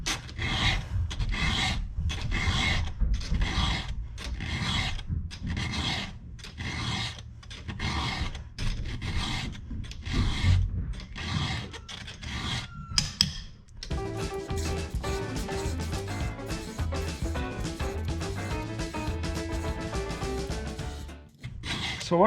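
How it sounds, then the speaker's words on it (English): A hand file is drawn across the cutters of a chainsaw chain in roughly a dozen evenly spaced rasping strokes, close and clear, before a denser, continuous metallic scraping takes over. "We'll sharpen a little bit here left-handed just so you can see the idea for that."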